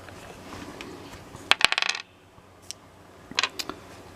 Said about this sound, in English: Let me take these other dice out of the tray.